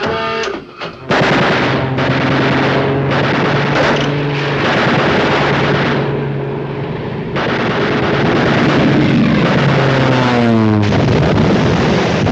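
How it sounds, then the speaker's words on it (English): A propeller aircraft flies over a surfacing submarine in a 1951 film, a loud, sustained engine roar whose pitch sweeps downward as it passes overhead. "Aircraft off the starboard quarter."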